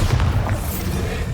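A deep, booming explosion from the Bombarda spell in the video game Hogwarts Legacy, a single loud low blast that rumbles on for over a second.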